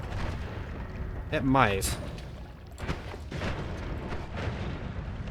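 Explosion spells going off in the video game Noita, a series of low booming rumbles and crackling blasts repeating across the clip, with someone speaking briefly over them.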